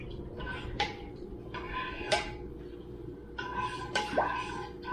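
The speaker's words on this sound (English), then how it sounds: "And then we're going to stir it slowly." A spoon stirring rice pudding in a pan with evaporated milk, giving a few sharp clinks of metal against the pan spaced about a second apart over a soft background murmur.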